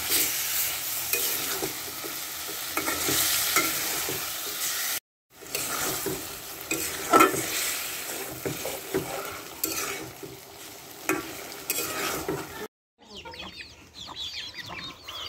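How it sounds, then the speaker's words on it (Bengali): Fish and potatoes sizzle and are stirred in a frying pan, a steady frying hiss with scraping, interrupted by brief cuts and followed by a quieter outdoor stretch. "মাছগুলো কষিয়ে নেব, আলুর সাথে মাছগুলো কষিয়ে নেব"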